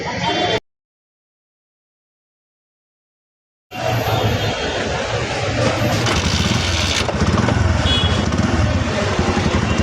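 Traffic jammed on a busy city street near New Market, heard as a dense, steady wash of idling engines and motorbikes with occasional horn-like tones. It cuts to silence for about three seconds before the close, loud street noise resumes.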